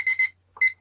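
An alarm clock rings loudly and close by in quick, shrill electronic bursts with short gaps between them.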